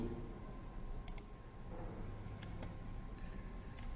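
Soft computer mouse clicks while working in Excel 2016: a few faint, sharp clicks in a quiet room, with a low steady hum underneath.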